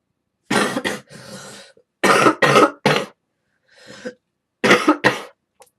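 A person coughs in repeated harsh bursts, two or three at a time with short pauses between, close and loud with no talking.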